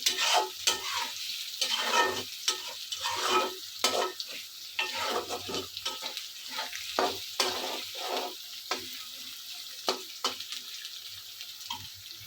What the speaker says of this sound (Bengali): পেঁয়াজটা হালকা ভাজা হলে আলুটা দিয়ে দিচ্ছি, আলুটা দিয়ে তেলে ভাজে নিয়ে আসছি।